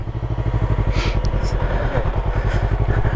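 A motorcycle ridden slowly by a learner, its engine running in a steady, rapid low putter at close range, with brief faint clatter on top and no clear speech.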